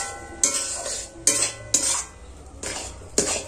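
Semolina being stirred with milk in a pan: a spoon scrapes and knocks against the metal in five distinct strokes at uneven intervals, close up, with quieter rubbing between them and no talk.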